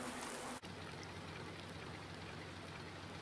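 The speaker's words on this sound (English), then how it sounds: "So while it's raining, we can't do anything in the fields really" Rain falls in Farming Simulator 19 as a steady dense hiss of drops on surfaces, continuous and fairly loud, with a brief dropout near the start.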